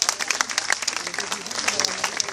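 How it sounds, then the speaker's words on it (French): An audience at a motor festival prize ceremony in Tresques claps hard for the team, a busy, bright patter of hands that carries on steadily, with a voice talking over it. "Alors on les applaudit très fort"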